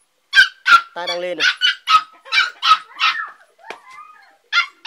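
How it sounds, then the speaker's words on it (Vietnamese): A 50-day-old golden female bobtailed Bản Mông puppy barks at a stranger in loud, close, high yips and barks, one drawn-out whine among them, while someone talks between the barks. "Chó rất dữ luôn nhé."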